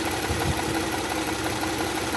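An Audi 3.0T supercharged V6 idles steadily at close range, a continuous mid-pitched engine hum with slight roughness and vibration throughout and no talk.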